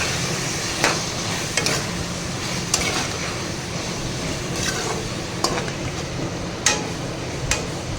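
Spices such as red chilli, salt, turmeric and garam masala are stirred into food in a pan, with soft scraping and occasional sharp spoon taps against the metal at irregular intervals over a low steady background.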